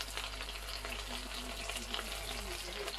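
Fish frying in a pan at home, a steady dense sizzle and crackle of hot oil that continues evenly throughout, close and unbroken, with no voices.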